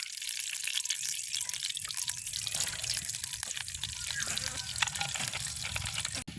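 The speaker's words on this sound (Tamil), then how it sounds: "நாங்கள் எண்ணெயை விடுவோம். எண்ணெயை விடுவோம். சத்தம் கேட்குது, கீட்டு ஏறிட்டேன்." Oil is poured into a hot pan before frying vada, making a continuous hissing, gurgling sizzle with a few small splutters and drips throughout.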